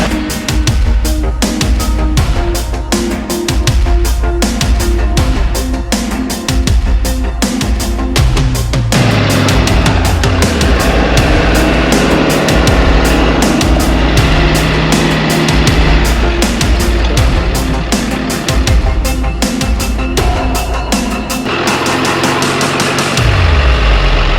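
Off-road wrecker truck on new tires and wheels driving around the block, its engine loud and close with a steady rumble that shifts pitch through gear changes and easing off near the end.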